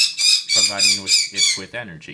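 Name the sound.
birds squawking outside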